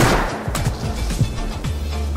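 Gunfire in the video game Rust, including an AK rifle, comes as a dense run of loud shots and impacts lasting a couple of seconds, with no pauses between bursts.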